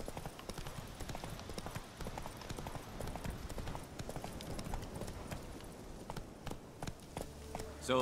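A horse's hooves clip-clop in a quick, steady rhythm in the video game The Witcher 3, close and clear with no talking.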